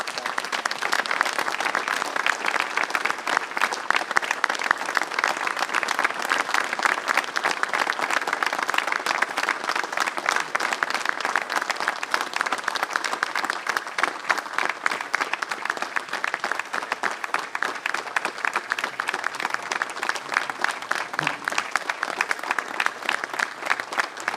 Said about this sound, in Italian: Un applauso dobbiamo farglielo grande grande.